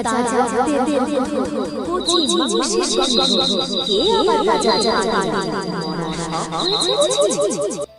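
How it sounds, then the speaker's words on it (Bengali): Cartoon-style insects chirp in a dark forest at night, with shrill trilling calls and warbling sweeps forming a dense, continuous chorus that stays loud throughout. "ওই জঙ্গলটা কি অন্ধকার, আর কেমন চিচি পোকার ডাক।"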